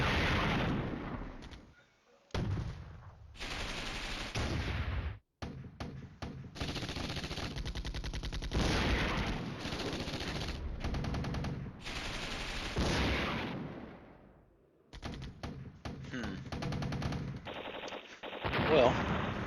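Heavy gunfire and mortar fire in the Flashpoint Campaigns: Red Storm wargame, with sustained machine-gun bursts and booming fire filling nearly the whole stretch, broken by a few short pauses, loud and dense throughout.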